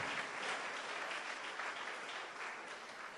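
A church congregation applauds during a family seminar service, a steady wash of many hands clapping at moderate distance, fairly faint, with no talk over it.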